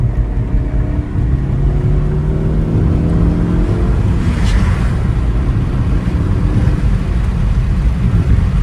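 A Saab 9-5 Aero accelerates on the highway in boost, a loud steady engine drone and road rumble with rising tones from inside the car, no voices over it.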